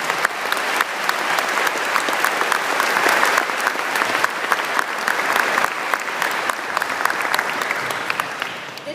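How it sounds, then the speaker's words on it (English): A large crowd at a USS Nimitz ceremony claps for the families, dense and loud applause held steady for several seconds. "So please join me in a round of applause for the families."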